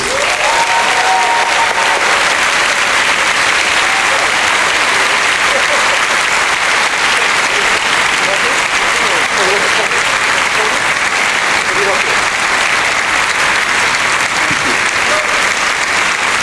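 Audience applause for actor Robert Hays at an Omaha film event, a steady, dense wash of clapping from a large crowd that holds evenly loud for the whole stretch.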